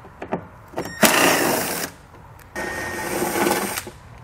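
An 8mm socket on a power driver spinning out bolts from a plastic bumper support on a 2019 Volvo, two sustained whirring runs of the tool, each about a second long, with light clicks before them.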